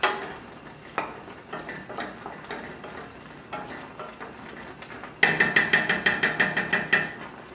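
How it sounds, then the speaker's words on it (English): Cinnamon and other ingredients being mixed in a bowl: irregular spoon clinks and scrapes for about five seconds, then a faster, brighter run of ringing taps against the bowl near the end. "Mix it around."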